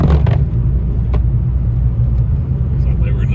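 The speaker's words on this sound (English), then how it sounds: "Chevrolet's still climbing." A Chevrolet car climbing a snowy road in a winter storm, a steady low engine rumble with a couple of brief knocks, while a person talks over it.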